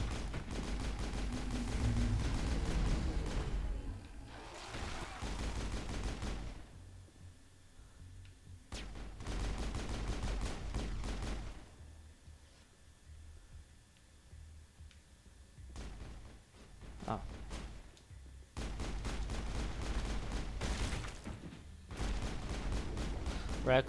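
Repeated bursts of gunfire from the Mass Effect video game crackle in clusters across the span, with quieter gaps between volleys and no talk over them.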